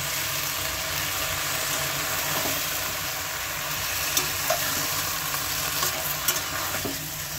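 Vegetables and crushed jackfruit seeds sizzle steadily in a hot pan while being stirred, giving a dense, continuous frying hiss with occasional soft scrapes of the spoon, close and without talk.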